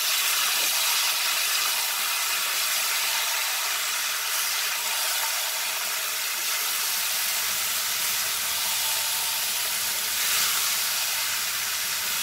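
Potatoes and peas frying in a karahi, a steady loud hiss and sizzle that holds evenly throughout with no talking.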